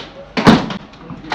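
A door slams shut nearby with one loud, sharp bang, followed by softer knocks and rattles as it settles.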